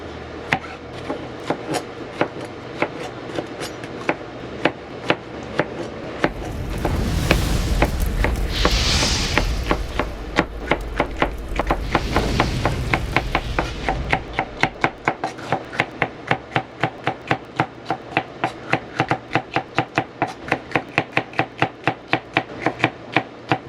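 Sweet peppers chopped with a knife on a board for smoked bacon mac and cheese: rapid, evenly spaced close chops throughout, briefly under a louder rushing noise midway.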